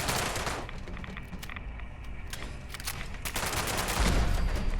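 Turrets in Fallout 76 fire rapid bursts of gunshots, a dense crackling volley that carries on for several seconds and grows louder toward the end.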